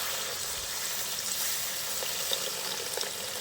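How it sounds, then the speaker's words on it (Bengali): Water poured into a pan of hilsa fish masala frying in oil sets off a steady, bright sizzling hiss, fairly soft, with a few small pops and bubbles over the constant crackle. "ঠিক সেই পর্যায়ে এর মধ্যে জল দিয়ে দিতে হবে"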